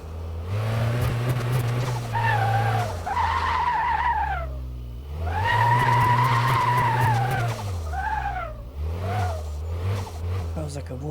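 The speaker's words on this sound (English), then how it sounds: "What kind of cheap shit tyres have they put on this? It's squealing on every corner." Tyres squeal through corners in Car Mechanic Simulator 2026, long wavering screeches rising and falling over a steady engine drone, with someone talking underneath.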